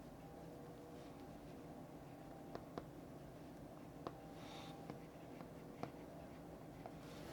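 A pen or fingertip taps and writes on a Lenovo laptop's touchscreen in a quiet room. The soft, sparse clicks and strokes are spread over several seconds above a low background hum.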